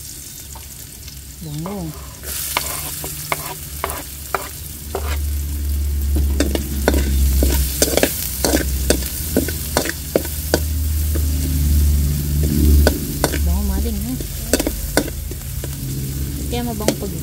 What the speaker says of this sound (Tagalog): at lalagay na po natin yung bawang at saka po sibuyas